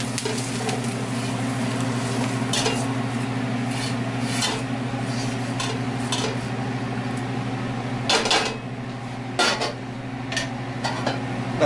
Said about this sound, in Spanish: Vamos a revolver todo esto junto.